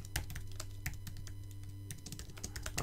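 Typing on a computer keyboard, a steady run of quick, light key clicks heard close but fairly quiet, with no talking.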